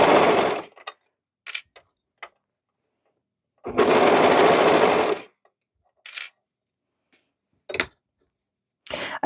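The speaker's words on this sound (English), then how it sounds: "It is nice when you are making clothes and you're serging" A serger sewing machine stitches a cardigan seam in a few loud, steady whirring bursts, one long and several short, between quiet pauses.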